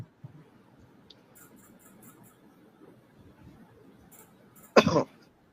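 A single sharp cough from a man calling in to a live online debate, loud and abrupt near the end after a stretch of quiet low background noise, with no speech over it.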